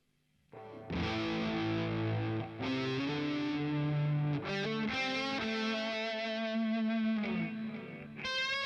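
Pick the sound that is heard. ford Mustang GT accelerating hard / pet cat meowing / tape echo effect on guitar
tape echo effect on guitar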